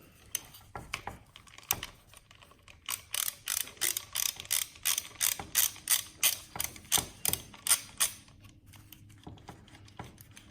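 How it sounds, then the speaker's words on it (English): Rapid ratcheting clicks from an Allen socket on a ratchet removing the boost pressure sensor on a Fiat 124 Spider Abarth, close and fairly quiet, in quick bursts with a few scattered knocks before and after. "Take a 5mm Allen key or Allen socket to remove it."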